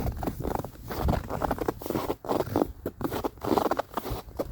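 Cold, dry snow at thirty below crunches underfoot in a close series of squeaky, gritty steps that stay loud and steady throughout.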